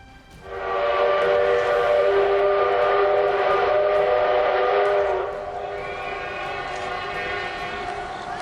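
A train sounds a long, loud, sustained horn blast that holds steady for several seconds, then continues at a lower level as a second tone, with shouting people and a horse near the rails.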